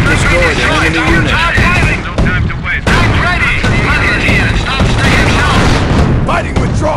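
Gunfire and artillery in the World War II strategy game Company of Heroes during Operation Market Garden, dense overlapping rifle and machine-gun bursts, heavy booms and explosions, continuous and loud, with soldiers' voices shouting under the battle.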